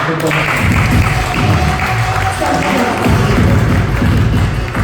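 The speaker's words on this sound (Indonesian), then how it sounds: "Tepuk tangan dulu dong." An audience claps together in a sustained burst of applause that fills the room, mixed with scattered thuds and low crowd voices.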